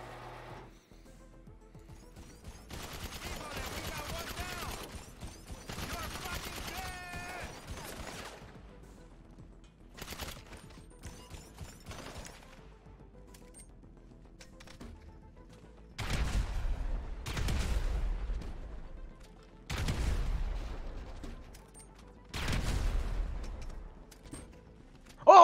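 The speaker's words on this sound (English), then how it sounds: "Heavy shotgun time." Heavy shotgun fire in GTA 5: bursts of game gunfire early on, then several heavy, booming blasts with low-end thump spaced a few seconds apart, over a quiet game background.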